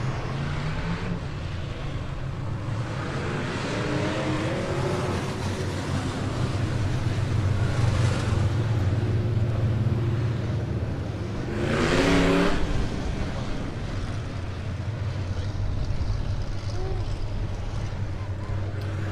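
Super stock race cars on a dirt oval racetrack during a weekly heat race, engines droning and swelling in a constant roar as the pack circles, with an announcer's voice running over the noise.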